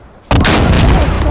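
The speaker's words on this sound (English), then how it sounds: "Chemical rounds going out!" Chemical artillery rounds fire in the Insurgency Sandstorm video game, a sudden loud burst that holds as a sustained rumbling barrage after a brief quiet start.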